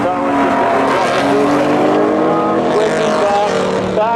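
Race car at Seekonk Speedway spinning out, with loud squealing tires over roaring engines, continuous and intense, and a commentator talking underneath.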